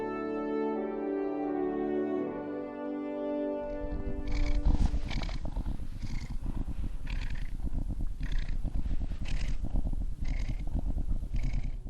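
A house cat makes a drawn-out tonal cry, then breaks into loud, close, rhythmic purring that pulses steadily for several seconds without any talking.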